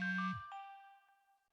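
A phone rings in the video game Inhuman Resources, giving a single bright electronic chime tone with a low buzz at the start, then fading out over about a second.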